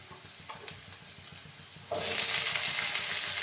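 Potatoes added to hot oil with already-frying onions in a home kitchen pan, a quiet low clatter giving way to a sudden loud, steady hiss and sizzle that continues to the end.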